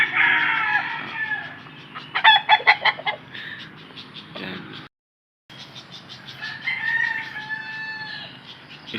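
A vitamin-fed fighting rooster given a Promotor 43 supplement crows loudly and repeatedly near the microphone, with clucking between calls and a brief silent gap midway.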